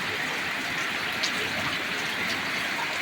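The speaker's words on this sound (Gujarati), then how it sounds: "બહુ મોટા છાંટાનો વરસાદ છે મિત્રો" Heavy rain with large drops falling steadily in an open farm area, a dense continuous wash of loud patter with a few sharper drop hits, no voices.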